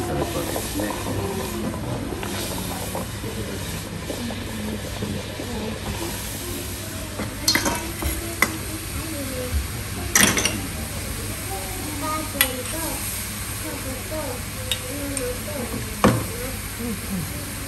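Miso hot pot in an Oga stone-grilled pot (ishiyaki nabe) sizzling with a steady broad hiss and occasional sharp pops, heard close under continuous talk from a man.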